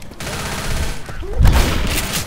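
Gunfire from a hunting rifle in the video game Left 4 Dead, heard as a few loud booming shots across about two seconds among other game noise.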